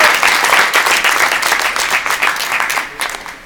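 Lively applause from an audience at a studio presentation, dense clapping with a few distinct sharp claps, tapering off near the end.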